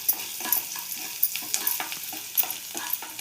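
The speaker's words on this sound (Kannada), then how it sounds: "ಈರುಳ್ಳಿ ಕಂದು ಬಣ್ಣ ಬರೋವರೆಗೂ ಹುರ್ಕೊಬಿಡೋಣ" Onions frying in a pan for millet upma, sizzling steadily and close with repeated scraping stirs that come as short rhythmic bursts, with no voice over it.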